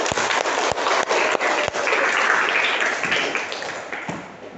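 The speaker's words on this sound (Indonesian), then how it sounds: "Kita beri aplaus untuk kelompok 1" A classroom of students applauds a group's presentation, dense steady clapping at close range with a few sharper individual claps, slowly tapering off toward the end.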